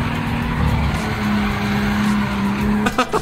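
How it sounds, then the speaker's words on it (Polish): A car drifts in Gran Turismo 7 on PS5, driven with a steering wheel, as a steady engine drone carries a drawn-out tire squeal that ends in a few sharp bursts. "Spróbuję teraz zadriftować, skoro mam tą kierownicę."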